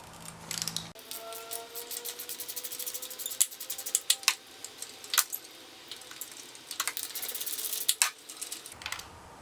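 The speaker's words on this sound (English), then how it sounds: "Using my spark plug socket." A ratchet turns a spark plug socket while a spark plug is removed from a 2002 Honda Civic SI EP3, giving rapid, close, repeated metallic clicking in uneven bursts throughout.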